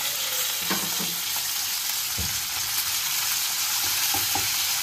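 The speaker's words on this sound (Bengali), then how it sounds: "শুকনো লঙ্কা 2টো দিলাম, গোটা এলাচ আর জিরে, এটা আমি ফোড়নের জন্য দিয়ে দিলাম" Two dried red chillies, whole cardamom and cumin seeds crackle and sizzle in hot oil in a kadai, a steady close frying hiss with a few stirring clinks and pops.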